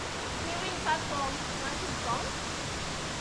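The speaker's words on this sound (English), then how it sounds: "so we're now right near the waterfall apparently" A waterfall in a Scottish Highlands gorge gives a steady, broad rushing roar, with faint voices briefly audible over it.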